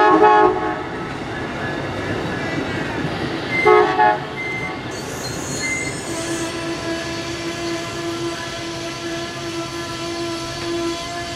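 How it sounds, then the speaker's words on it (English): An Amtrak Midwest passenger train making its station stop at Galesburg, with loud, close rail rumble and steady sustained horn tones that ring on over the continuous train noise. "Amtrak Midwest was up next, making its station stop in Galesburg."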